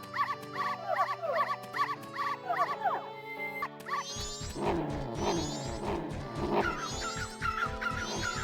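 A dog character in the video game Majora's Mask reacting to Zora, heard as bright synthesized chirps and yelps layered over game music, with a busier, denser section in the second half.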